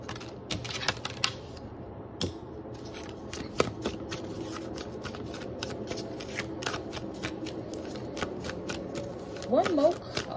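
Tarot cards shuffled and handled in repeated quick riffling bursts and soft slaps, close and fairly quiet over a low steady background hum, with no talking.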